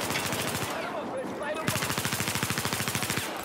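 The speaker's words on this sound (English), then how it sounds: "Definitely getting shot at." Rapid automatic gunfire in the Battlefield 4 video game, a loud close burst of evenly spaced shots firing in quick rhythm after a noisy stretch of combat, with distant battle sounds beneath.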